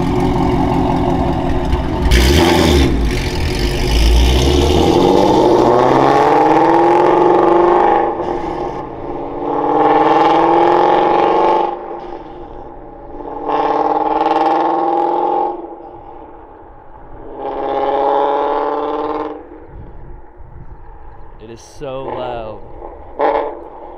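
Ford Mustang GT350 passing in normal driving, its engine swelling and fading in several separate surges from moderate distance, with someone talking between and over the passes.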